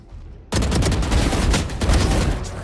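Rapid automatic gunfire spray in the Valorant video game, a dense, loud burst of shots starting abruptly and continuing steadily for a couple of seconds with no pause.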